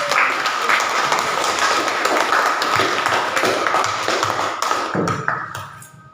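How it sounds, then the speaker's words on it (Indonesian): Applause in a Catholic religious education classroom, dense continuous clapping with some tapping and thuds, fairly loud and close, tapering off over the last second. "Iya, tepuk tangan."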